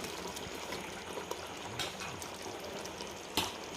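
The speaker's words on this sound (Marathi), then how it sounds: "ह्या अशा पद्धतीनं आपण पूर्ण तांदूळ टाकून घेऊ" Rice being tipped into a pot of boiling water for smoky chicken biryani, a steady close wash of bubbling and pouring water with a few brief louder splashes.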